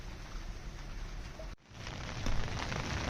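Heavy torrential rain falls outdoors in a dense, loud, continuous hiss of drops hitting surfaces, briefly cut out near the middle before resuming as strongly.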